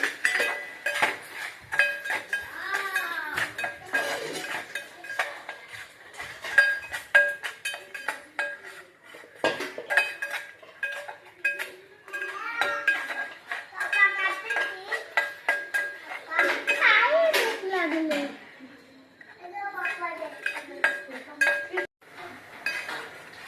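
Semolina stirred into melted jaggery in a pan, repeated metallic scraping and clinking of a spoon against the pan in irregular bursts, close, with a voice talking intermittently over it.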